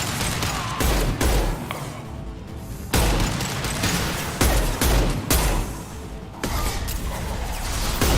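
Gunfire crackles through a combat sequence in the video game Mass Effect 2: Legendary Edition, loud repeated bursts of shots and impacts in close succession with brief pauses between volleys.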